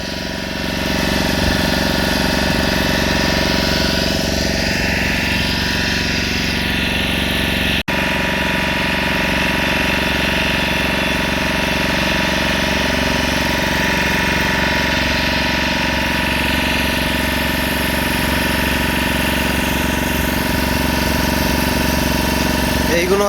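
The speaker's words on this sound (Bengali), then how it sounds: "এই আমাদের স্পিড বোট।" A speed boat engine idles at a harbour among fishing trawlers, a loud, steady, low mechanical rumble with a constant hum running unbroken from start to finish.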